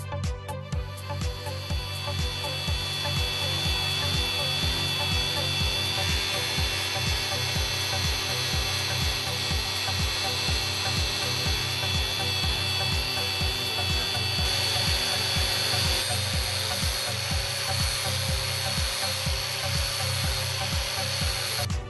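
A power tool fitted with a Blendex disc running at about 5,000 RPM grinds steadily across a flat metal surface for a brushed finish, a continuous close whir with rhythmic pulsing strokes and no talk.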